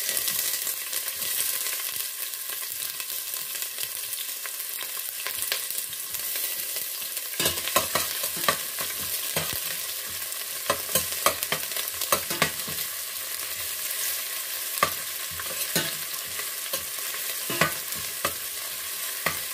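Sliced onion stir-fries in a pan while cooking fresh miki noodles with salmon. A steady close sizzle runs throughout, broken by scraping, clattering spatula strokes at irregular intervals. No one speaks.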